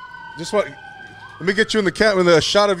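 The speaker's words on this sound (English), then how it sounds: "As you can hear the sirens in the background." A siren wails faintly in the background, a steady tone gliding slightly, while someone talks loudly up close over it.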